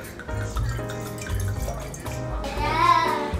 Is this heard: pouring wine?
yes